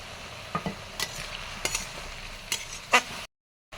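Prawns go into a pan with fried potatoes and cut greens, followed by quiet sizzling and a few sharp scrapes and clinks of stirring against the pan, ending abruptly.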